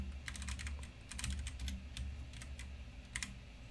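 Typing on a computer keyboard sounds up close as quick clusters of light clicking keystrokes, coming in short uneven runs over a low background hum.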